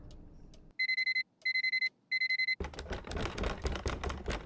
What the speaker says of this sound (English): Why wouldn't my alarm still be set